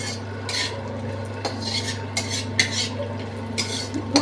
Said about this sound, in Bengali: কটা অল্প বড়ি এই ভেজে নিচ্ছি, ভালো করে ভাজবো